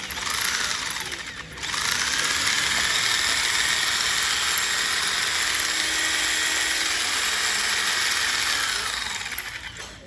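A 180W jigsaw runs steadily for about eight seconds, a loud continuous high-pitched motor whine with a buzzing blade, briefly dipping near the start, with no talk.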